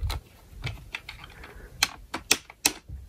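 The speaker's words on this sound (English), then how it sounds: "We hit the keyboard power." Keys on a Power Macintosh G3 keyboard are pressed in a series of sharp, close plastic clicks, several spaced taps with louder presses toward the end.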